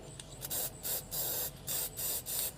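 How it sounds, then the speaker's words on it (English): White Cryline Shortcuts Hobby Craft aerosol spray paint given a test spray: about five short, loud hissing bursts separated by brief pauses, close by, with no talking. "So let's give it a test spray."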